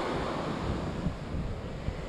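Surf breaking steadily on Nha Trang beach, a continuous broad wash of waves with light wind buffeting the microphone, no voices, a couple of soft low thumps as swells land.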